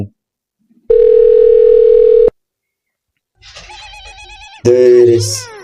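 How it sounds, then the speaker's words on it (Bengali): On an outgoing phone call, a single long electronic ringback tone sounds clearly for about a second and a half, followed by a pause and then a voice answering. "কালটুকে ফোনটা করি"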